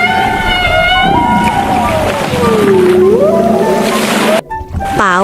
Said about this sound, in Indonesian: Paus beluga adalah paus putih yang suka bersuara lucu seperti sedang bernyanyi di bawah laut.